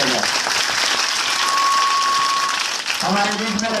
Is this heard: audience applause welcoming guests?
yes